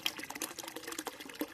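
Water spills from a pipe fed by a pump in a garden wildlife pond, the outlet hidden behind driftwood; a faint, steady trickle with no voices.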